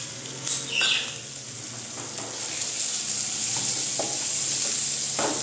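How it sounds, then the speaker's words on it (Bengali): Paste-ground chicken frying in a pan for chicken paratha, a continuous close sizzle that swells as the paste goes in, with a few clanks and stirring scrapes, no talking. "এর মধ্যে আমি এখন দিয়ে দিচ্ছি পেস্ট করা চিকেনটা।"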